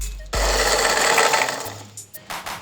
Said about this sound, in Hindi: जस्ट हम 1 सेकंड ग्राइंड करेंगे और हमारे फ्लेक्स